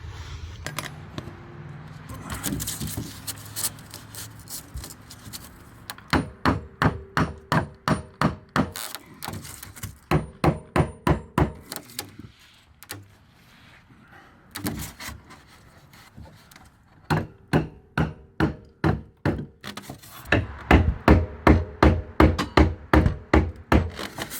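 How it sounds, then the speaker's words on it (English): A small hammer taps a wood block to seat foam insulation on a cargo trailer floor, giving loud, close bursts of rapid, evenly spaced knocks with short pauses between runs. "I've got a little hammer and a piece of wood that I'm gonna tap on the foam and hopefully tap it home"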